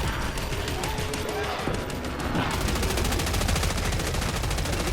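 Gunfire in the shooter game Killing Floor 3 comes as a continuous rapid stream of automatic fire, loud and close, layered over dense game noise with no pauses.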